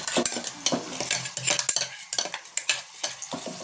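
A spoon stirs a coconut and chili powder mixture in a pan, with repeated close scraping strokes and metallic clinks over a light sizzle, brisk and uneven in rhythm.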